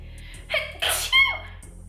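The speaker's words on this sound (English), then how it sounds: "I have to sneeze" A single sharp sneeze bursts out after a quick inhaled gasp, loud and close, followed by a brief breathy tail against a low steady hum.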